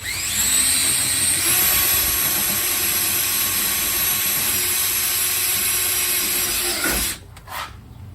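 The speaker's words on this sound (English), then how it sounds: "I'm going to drill them out a little bigger so we can break these welds." A power drill whines steadily at high speed drilling out spot welds on a Dodge Ram rocker panel for several seconds, then cuts off abruptly.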